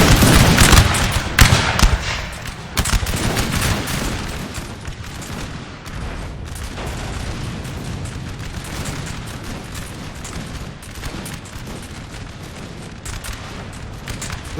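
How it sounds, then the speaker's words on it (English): Massed musket volleys crackle in a Napoleon: Total War battle between British and French armies, dense overlapping gunfire with heavy booms that is loudest early, then settles into a continuous rattling firefight with no voices. "The intense firefight."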